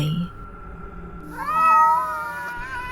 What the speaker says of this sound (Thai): เขาก็ได้ยินเสียงแมวร้องระงม